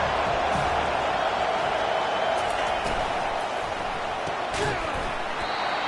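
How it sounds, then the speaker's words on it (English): A stadium crowd at an FSU vs LSU football game on a 3rd down sends up a steady, loud wash of roaring noise, with a few sharp thuds and a commentator talking over it. "Decibels rising as the crowd gets behind this defense on 3rd down."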